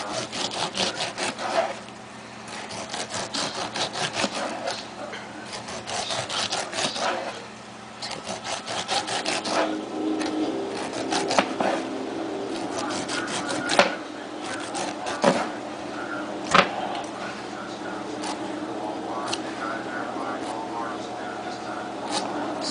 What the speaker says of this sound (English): Just get the skin off. You can leave the eyes, but get the skin off.